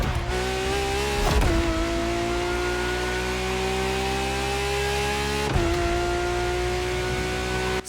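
A V12 engine swapped into a car in The Crew racing game screams at high revs with a bright harmonic whine, dipping briefly at two gear shifts before climbing again, loud and continuous.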